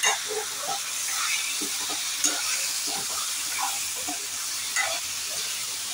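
Kupa fish pieces with turmeric and salt sauté in a hot pan, giving a continuous hissing sizzle with intermittent scraping stirs and small spatters, close and moderately loud, with no speech.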